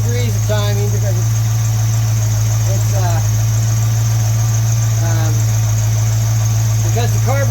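Car engine fitted with an Edelbrock carburetor idles steadily at low RPM, a constant near drone with a strong low hum throughout, while someone talks over it.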